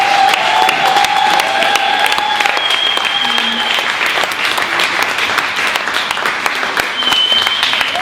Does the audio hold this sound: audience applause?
yes